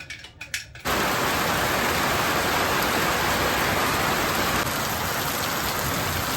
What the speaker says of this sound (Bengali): আর রাত হতে হতে দেখো কি জোরে বৃষ্টি শুরু হয়েছে